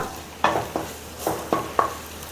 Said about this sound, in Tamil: இதில் இந்த ஜீரகத்தை போட்டுடுறேன். ஜீரகம் சேர்ந்து வதங்கட்டும்